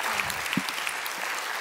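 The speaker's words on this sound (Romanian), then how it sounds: "Aplauze!" A studio audience at a Romanian television dating show applauds, a dense burst of clapping heard up close and filling the brief moment, with a faint voice underneath.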